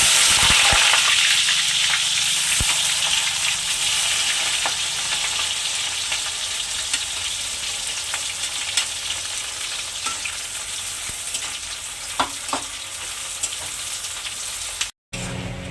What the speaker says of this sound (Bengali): এখন পেঁয়াজটা বেশ লাল লাল হয়ে ভাজা হয়ে গেছে